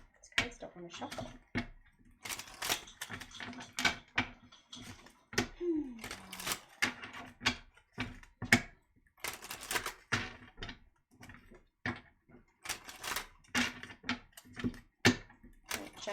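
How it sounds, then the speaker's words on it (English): Chakra cards are shuffled in bursts of crisp rapid clicks and flutters, repeated many times, with faint speech in the background. "These cards don't want to shuffle."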